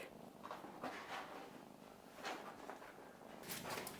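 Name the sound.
cat purring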